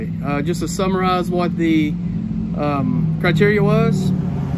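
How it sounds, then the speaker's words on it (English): Road traffic passes a front porch as a steady low engine rumble under someone speaking close to the microphone. "I apologize for the traffic."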